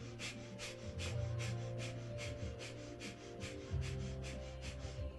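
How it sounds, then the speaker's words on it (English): Breath of fire during a yoga kriya class, quick rhythmic forceful breaths through the nose at a steady fast pace, close and soft, over a low background hum. "we're going to take breath of fire"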